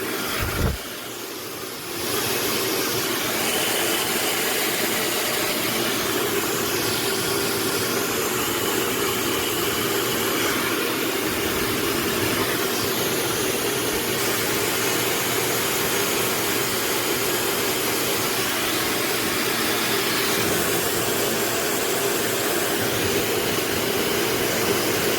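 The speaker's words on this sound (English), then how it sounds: "Now I'm going to turn it on to, this is the first speed, 85 cooling" A PLAVOGUE high-speed hair dryer running on its first speed setting, with a steady, loud whooshing blower hum that starts with a click and holds constant throughout.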